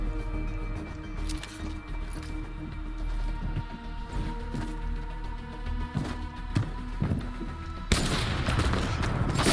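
Sniper gunfire from the video game Fortnite pops in scattered shots over a busy game soundscape, with a louder burst of noise near the end.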